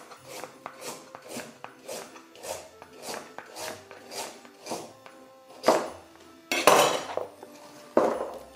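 A Thermomix chops a whole carrot into pieces, with the carrot knocking rhythmically against the blades and bowl in regular thuds. The strikes become louder and rougher near the end.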